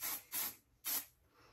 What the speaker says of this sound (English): This is Bedhead Head Rush. And it says super fine shine spray for extreme gloss.